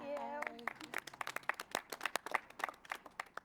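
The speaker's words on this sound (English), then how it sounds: "Tennis clap." After a brief voice, a small group at a virtual press conference for King Richard gives a soft, scattered tennis clap: light, irregular claps that stay quiet and patter on to the end.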